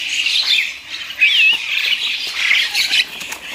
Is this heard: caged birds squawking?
yes